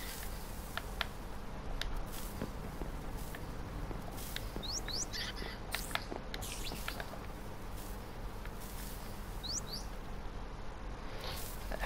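Parrots in the game Minecraft, a steady run of high, thin chirps and tweets repeating irregularly over a constant low background hum, fairly faint and with no speech.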